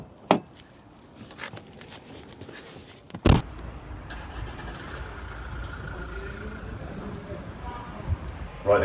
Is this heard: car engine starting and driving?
yes